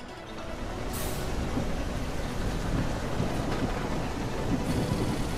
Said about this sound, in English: It's raining, it's slick